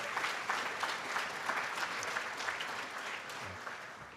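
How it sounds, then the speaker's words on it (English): An audience at a Pennsylvania state government event applauds its legislators, a steady round of moderate clapping from a room-sized crowd that tapers off toward the end. "Let's give them a round of applause."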